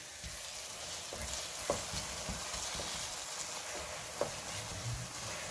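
Makhandi halwa fries and sizzles in a pan, a steady soft crackle that runs the whole way, with occasional faint clicks of stirring and no voices.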